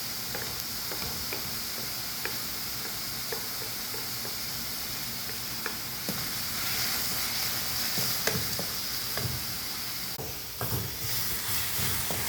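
Half-cooked onions and crushed ginger frying in a pan for a prawn kurma, a loud continuous sizzle close by with occasional scrapes and clicks of stirring.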